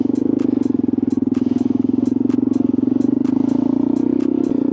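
A BMW S1000 motorcycle being ridden gives a steady, loud engine drone with a fast, even pulse, and faint regular ticks sound over it the whole time.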